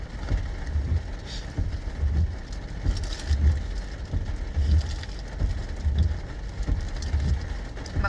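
Heavy rain pours onto a stopped car during a storm, a dense steady patter with soft low thumps recurring at a regular pace.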